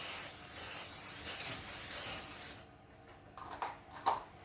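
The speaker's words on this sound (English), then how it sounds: "Using cook and bake spray, we will lightly spray" Cook and bake spray hisses steadily onto a baking sheet in one continuous burst for about two and a half seconds, followed by a few light clinks and handling sounds.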